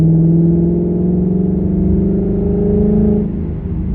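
A 2019 Mustang GT Premium with a 10R80 automatic transmission accelerating hard, loud rising engine drone climbing steadily in pitch, then easing off near the end, heard from inside the car.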